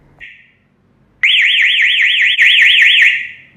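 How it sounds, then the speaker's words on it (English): Homelux SL905 alarm siren going off after its AC power is cut: a brief chirp, then a loud, continuous warbling electronic wail that rises and falls rapidly for over two seconds before tapering off. "When we cut the AC power, the siren will start to alarm immediately."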